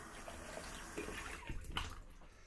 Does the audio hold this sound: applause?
no